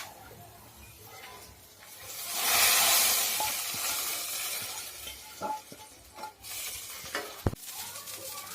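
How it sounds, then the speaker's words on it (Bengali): Fried onions stirred into a pot of cooking dal made from two kinds of lentils: a soft hiss swells into a brief sizzle, followed by scattered scrapes and light clinks of a spoon against the pot. "বন্ধুরা, এখন আমরা ডাউলের ভিতর পেঁয়াজ ভাজাটা দিয়ে দিব।"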